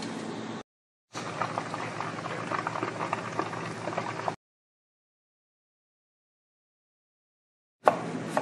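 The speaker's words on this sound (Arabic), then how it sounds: "تاخذ البطاطس وتحطها في الزيت على 180 لين ما تصير كريسبي." Frozen potato fries bubble and sizzle in hot oil at 180 degrees, a dense, steady frying crackle heard in two separate bursts, with silent gaps between them.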